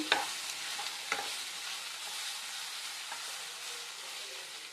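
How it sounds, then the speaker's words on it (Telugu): A shrimp fry masala mixture with garam masala powder is stirred in a hot pan, giving a steady sizzle with a few scraping strokes of the spoon near the start. "మిశ్రమాన్ని అయితే బాగా కలుపుకోవాలి"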